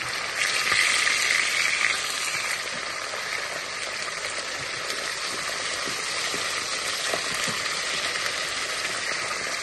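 Steak fillets fry in plain unsalted oil in a pan, making a continuous bright sizzle and crackle, close and fairly even, a bit stronger during the first couple of seconds.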